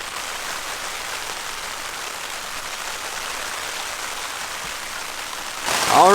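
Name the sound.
rain falling on a Zpacks Duplex tent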